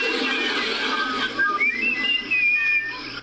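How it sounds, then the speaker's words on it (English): Women whistle the Gilligan's Island theme tune, a clear wavering melody carried alone over a low steady hum with no talk. "are the girls whistling the show's theme song?"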